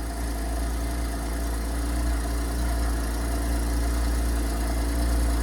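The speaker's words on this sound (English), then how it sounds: "This is a good sounding 6-cylinder engine." A Porsche 718 Cayman S six-cylinder engine idles with a steady, even low rumble and a constant hum, close and unbroken, with no voices.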